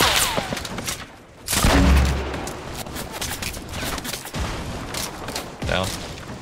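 Gunfire in the battle royale game Fortnite, a loud burst of shots near the two-second mark followed by scattered, more distant reports and impacts over a steady game ambience.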